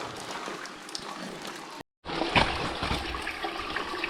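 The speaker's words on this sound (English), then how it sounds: "all the water we've been following down, it just disappears down this great big hole" Water drains steadily into a big hole inside a disused railway tunnel at Sandsend, a continuous rushing trickle that echoes in the tunnel and drops out briefly for a moment partway through.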